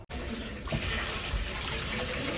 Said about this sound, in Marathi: तुम्हाला फ्लश करायचं असेल तर हे वाला प्रेस करायचं